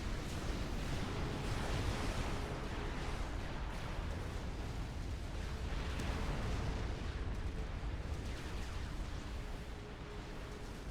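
Rolling booms and rumbling blasts from TML missiles flying and exploding in a strategy video game, a dense continuous barrage of distant-sounding explosions with no talk.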